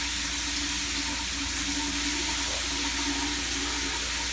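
Strong water spraying from a shower head at high pressure, a loud, steady broadband hiss that runs unbroken for the whole stretch with no talking.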